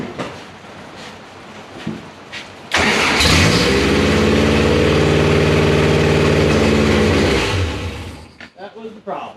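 Toyota engine with its oil pressure sensor unhooked cranks and catches abruptly, then runs at a loud, steady idle for several seconds close by before shutting off and dropping into quiet rustling.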